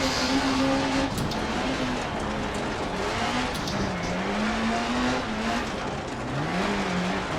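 A Peugeot 405 T16 rally car with a 600-horsepower four-cylinder engine and six-speed gearbox howls up Pikes Peak, its loud engine note rising and falling through gear changes over continuous gravel and tire noise, close and steady.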